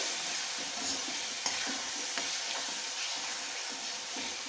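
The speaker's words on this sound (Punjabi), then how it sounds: "ਮਿਕਸ ਕਰ ਲਾਂਗੇ ਸਾਰੇ ਮਸਾਲਿਆਂ ਨੂੰ ਚੰਗੀ ਤਰ੍ਹਾਂ ਤੜਕੇ ਵਿੱਚ ਭੁੰਨ ਲਾਂਗੇ" Spices and green chilies roasting in hot tempering oil for baingan bharta, giving a continuous close frying sizzle with faint stirring clicks and no talking.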